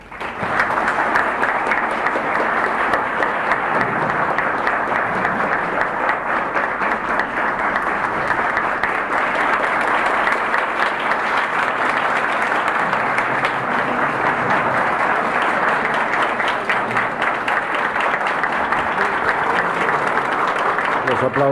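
A large crowd applauds steadily for the whole stretch at a public reading of Juan Bosch's stories, a dense continuous wash of clapping at even loudness.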